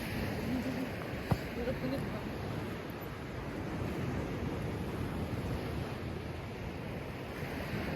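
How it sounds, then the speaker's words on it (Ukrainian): Sea waves wash steadily along a winter Baltic coast in Denmark, a continuous broad surf roar mixed with wind noise on the microphone, with a faint voice briefly in the background. "Чути, чути як море, ні? Шумить."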